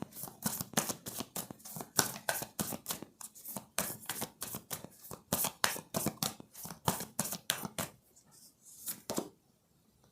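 Tarot cards shuffled and drawn for a pick-a-card reading, a long run of quick, close papery riffles and slaps that thin out into a brief pause before a few final flicks.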